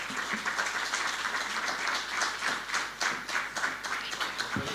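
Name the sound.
applause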